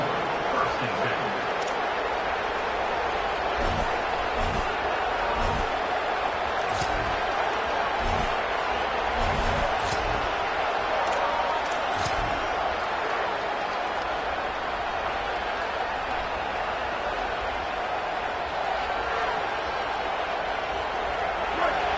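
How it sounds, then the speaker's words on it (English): Dense, steady roar of a large football stadium crowd throughout, loud and continuous with occasional claps and shouts rising out of the wash of noise. "This crowd trying to make life miserable for this offense."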